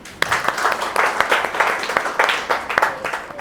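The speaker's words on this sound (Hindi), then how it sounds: "इनके लिए तालियां।" A small audience at a product demonstration claps for a few seconds, with distinct individual hand claps standing out over a lively, uneven patter of applause nearby.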